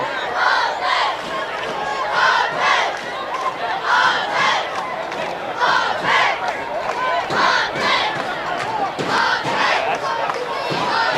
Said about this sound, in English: Enthusiastic crowd chanting in favor of Golden Valley on our side of the field.